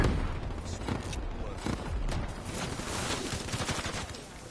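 Gunfire crackles through a shooter video game match, rapid overlapping shots and bursts with booming impacts, dense and continuous, with players' voices faintly mixed in.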